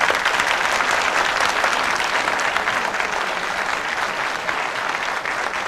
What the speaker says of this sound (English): A round of applause, little ripple.